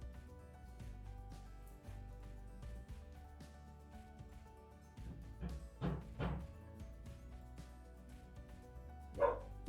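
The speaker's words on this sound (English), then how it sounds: "That'll be enough to set the dogs off." Neighbours' dogs bark faintly in the distance, scattered yaps and a few short bursts over a quiet indoor background.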